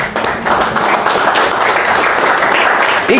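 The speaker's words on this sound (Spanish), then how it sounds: "Un aplauso para Nico." Church congregation at a pastor-led service claps steadily and fairly loudly, a dense, sustained wash of hands with no voices over it.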